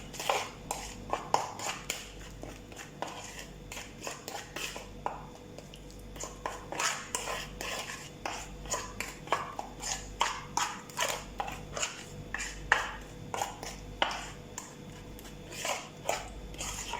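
Salt is worked into a chicken marinade for drumsticks in a bowl, giving a steady series of close, wet squelches and light clinks of a spoon or fingers against the dish.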